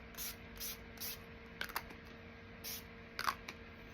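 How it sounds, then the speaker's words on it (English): Several short hissing bursts of a makeup setting spray bottle, evenly spaced, with a few light clicks and taps in between, close by and fairly quiet. "Now I'm going to spray once again with this"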